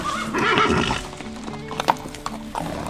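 Horses at a stable in Calvados, Normandy: a loud whinny rings out first, followed by scattered clip-clopping hoof knocks and shuffling on the stable floor.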